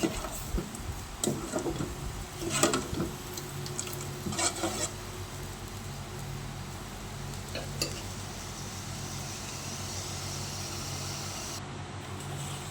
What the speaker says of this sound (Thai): นี่เราก็เคี่ยว เครื่องแกงเผ็ดกับกะทิ ให้หอมก่อนนะคะ